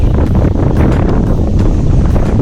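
Strong wind buffets the microphone in a steady, loud roar at Malambuzha Dam in Kerala, with no voices over it.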